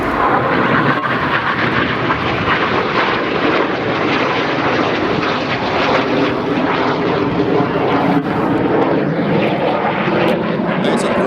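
Red Arrows jets fly the Vortex manoeuvre at the 2011 Leuchars Airshow, a loud, continuous, close roar of jet engines that holds steady throughout.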